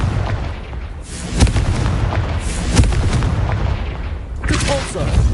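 Confringo spell blasts in the Hogwarts Legacy video game, with loud booming impacts and crackling bursts over a steady rumble, several hits spaced across a few seconds, and a voice speaking among them.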